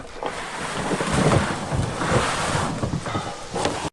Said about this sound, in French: L'eau rugissante s'écrase contre les rochers.